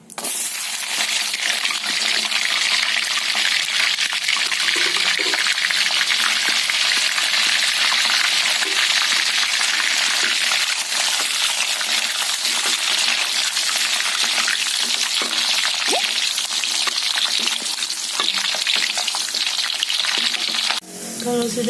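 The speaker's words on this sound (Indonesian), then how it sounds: "Sekarang kita akan goreng petenya dulu." Petai stink beans frying in hot oil for a Padang-style green chili sambal, a loud, steady, dense sizzle with crackling spatter running continuously throughout before cutting off at the end.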